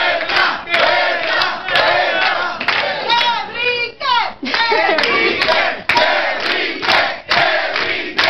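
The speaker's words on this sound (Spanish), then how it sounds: "Fuerte aplauso para Mónica" A studio audience cheers and applauds contestant Mónica, with loud crowd shouting and whooping over clapping in rolling bursts.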